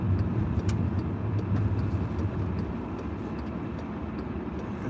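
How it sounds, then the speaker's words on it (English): A steady, loud road roar of heavy traffic on a street in Shenzhen as a bus passes close by among big trucks, with a broad rumble that eases slightly toward the end; no one speaks. "The bus just came by."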